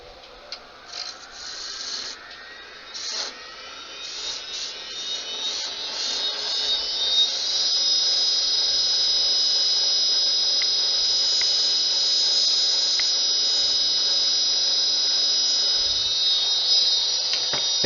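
A wood lathe turns a small wooden snowman's carrot nose while a tool cuts it down, starting with uneven scraping and rising into a loud, sustained high-pitched whine close by.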